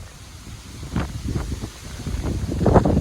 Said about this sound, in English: So the wind's picking up heavy.